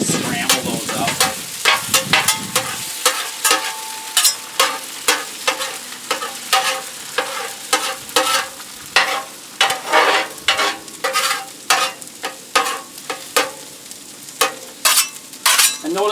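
Eggs sizzle and get stirred in a hot pan outdoors for egg fried rice, with steady frying hiss and repeated sharp scraping strokes of the utensil.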